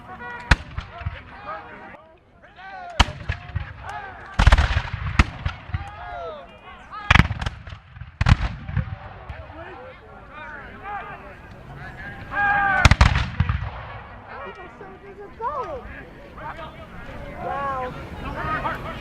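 Musket volleys crack out during a reenactment of the Battle of Fort George, with American and British forces trading fire: loud, sharp reports spaced through the scene, some overlapping into ragged volleys, with voices talking throughout.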